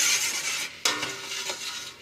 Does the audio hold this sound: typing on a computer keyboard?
no